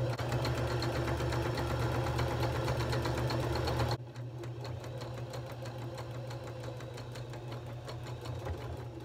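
A sewing machine stitches the hem of a stretchy knit t-shirt with a fast, even mechanical whir and rattle, running loud at first, then continuing at a slightly lower level after an abrupt drop.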